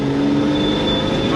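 Cheap pickup truck fitted with a budget turbocharger, engine revving hard as it accelerates with heavy wheel spin, a steady loud roar with a faint turbo whine, mixed with voices.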